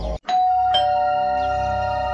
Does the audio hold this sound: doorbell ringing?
yes